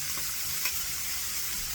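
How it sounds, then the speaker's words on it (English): Food frying in a pan while tostones and sausage with peppers and onions cook, a soft continuous sizzle with a faint stir near the middle, quiet and steady. "let's just finish frying this up"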